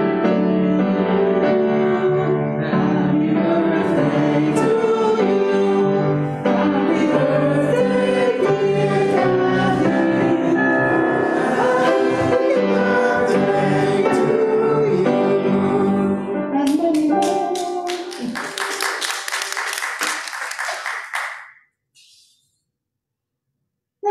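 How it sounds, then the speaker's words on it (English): Happy Birthday played on a keyboard or piano at a Sunday church service while the congregation joins in, a steady melodic performance that swells with bright tones near the end before stopping abruptly. "do you think we could play happy birthday to Kathy? And you all just hum along a few bars or clap with me."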